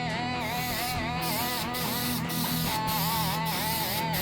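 A spray can lays paint onto a guitar body on a front porch, a close hiss broken into several short bursts separated by brief pauses.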